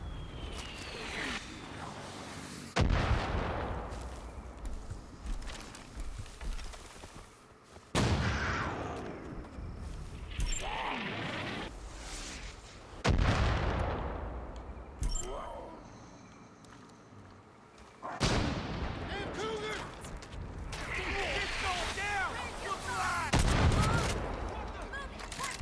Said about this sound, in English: Yep, there's artillery.